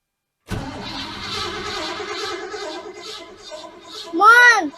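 A 1981 Delta 88 car engine cranks steadily at close range, then catches with a rising, warbling rev near the end while a voice talks alongside.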